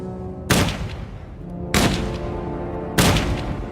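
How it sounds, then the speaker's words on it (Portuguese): Three loud gunshots ring out at even intervals of about a second and a quarter, each a sharp crack with a decaying echo over a low steady hum. "Então atiraram nele 3 vezes no peito e 1 vez na cabeça."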